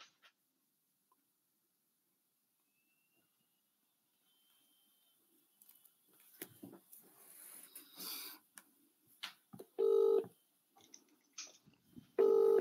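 A telephone is dialed for a cold call, with quiet clicks and handling noises followed by two steady electronic tones, each lasting about half a second, coming from the phone line.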